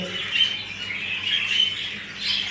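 Young Japanese budgerigars newly weaned onto seed give thin, high chirps in short bursts, a few calls close together, with no talk over them.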